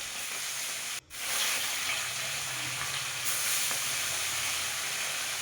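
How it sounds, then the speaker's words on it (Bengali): Bata fish fry in hot oil in a wok with a steady, moderate sizzle and hiss. One brief dip in the sound comes early on, and no one speaks. "তারপরে মাছগুলো একে একে তেলের মধ্যে ছেড়ে দিচ্ছে"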